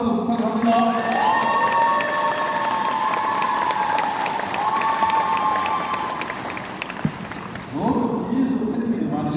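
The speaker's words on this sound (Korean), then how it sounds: "여러분 큰 박수 한번 부탁합니다" A crowd at a provincial governor's town-hall meeting with Goheung county residents claps and cheers loudly, with shouting voices over the applause, which fades briefly near the end before a speaking voice returns.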